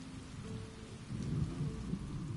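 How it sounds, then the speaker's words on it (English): Rain and rolling thunder in the Daggerfall area of the Elder Scrolls Online video game, a faint, steady wash of rainfall with a low thunder rumble swelling partway through. "Well, it's raining now, mate."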